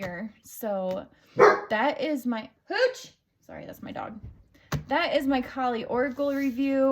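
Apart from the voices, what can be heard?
dog barking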